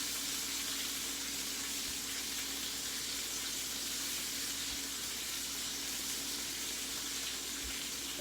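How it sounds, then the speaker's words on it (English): Steady broadband hiss of steak searing in a hot pan, a continuous sizzle with a faint low hum underneath and no talking. "That's how you sear a steak."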